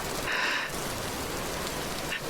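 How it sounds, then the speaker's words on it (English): Steady rain falling in the video game Vintage Story, a continuous hiss of drops on surfaces with a brief brighter swell early on and no voices. "it's raining all the time"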